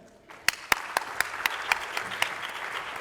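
Audience applause for speakers at a postdoc appreciation event, a few sharp claps starting up and building into steady, moderately distant clapping throughout.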